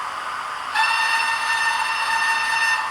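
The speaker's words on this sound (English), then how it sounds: "I will give you another whistle." A Hornby TTS sound model steam locomotive on a layout gives a loud, sustained whistle that starts abruptly and holds a bright steady tone for over two seconds, heard alone.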